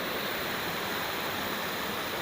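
Water rushes steadily at the top of a waterfall near Coeur d'Alene, a dense, even roar of falling and flowing water with no breaks, moderately loud and heard alone.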